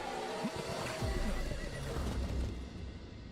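Horses in a video game whinny faintly over a dull rumbling backdrop, a couple of short neighs rising and falling amid low thuds.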